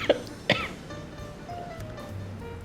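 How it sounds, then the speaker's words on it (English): A person gives two sharp coughs near the start, then only quiet room noise follows. "I was just coughing"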